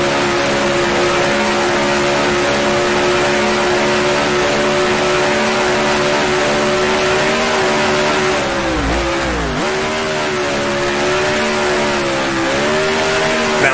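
A 1966 Formula One race car engine in the Grand Prix Legends sim game screams continuously and loudly, with a brief dip and recovery in pitch as the throttle lifts and comes back on.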